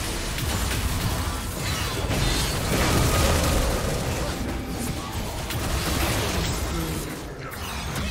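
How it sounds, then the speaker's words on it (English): A turret being destroyed in League of Legends, heard as a continuous loud rumbling crash of debris and mechanical grinding lasting several seconds amid ongoing game sounds. "Red team's turret has been destroyed."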